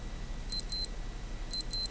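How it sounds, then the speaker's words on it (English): A Casio AE-1200 digital watch runs its alarm test, giving two pairs of short, high, thin beeps separated by a brief gap, close and clear over a faint background hiss. "it's an alarm test,"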